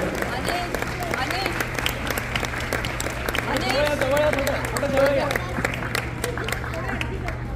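Loud audience applause at a Shivaji-era themed fashion show, dense and steady for the whole stretch, with voices talking and chattering over the clapping.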